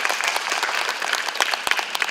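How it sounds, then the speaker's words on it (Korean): Steady applause from a conference audience at an IT management forum, dense clapping throughout at a fairly loud, even level. "박수 부탁드립니다."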